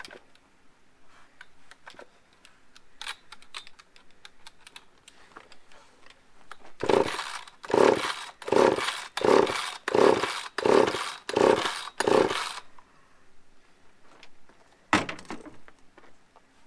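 Starter rope on a Stihl 066 chainsaw pulled hard about eight times in quick rhythmic succession, each a loud close ratcheting rasp without the engine catching, followed by one more pull a moment later.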